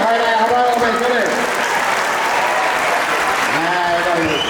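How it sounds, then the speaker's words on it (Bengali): A crowd claps loudly and continuously at a high school's centenary celebration, a thick, even wash of applause with a voice talking over it at the start and again near the end. "সবাই করতালি, জোরে জোরে, আরো জোরে"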